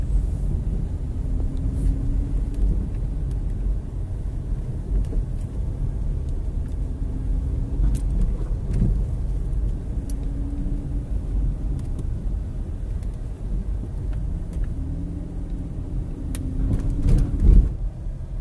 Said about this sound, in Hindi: ट्रैफिक जैम है, ट्रैफिक लाइट की वजह से सारी ट्रैफिक रुकी हुई है।